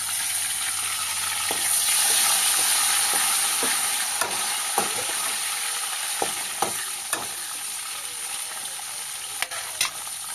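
Curry leaves crackle and sizzle loudly in hot oil in a home kitchen pan, a close, continuous hiss broken by sharp spatters and occasional stirring clicks, with no talking.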